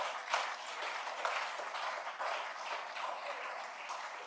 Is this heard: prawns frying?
no